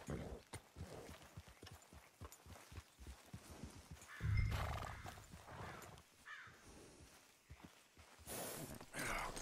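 Horses in the Red Dead Redemption 2 video game, with a loud close neigh mid-way, snorts and breaths, and a run of hooves clip-clopping near the start, fairly quiet overall.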